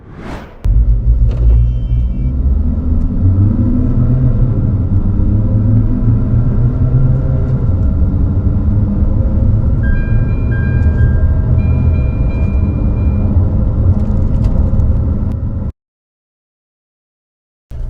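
A 2023 Tata Safari Red Dark SUV engine drones and rumbles loudly and steadily for about fifteen seconds during a 0 to 100 acceleration run, its pitch climbing through gears, then cuts to silence.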